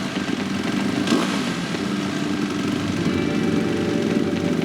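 A motorcycle engine idles steadily nearby before the riders set off, a continuous mechanical rumble with a brief louder blip early on and no talk over it.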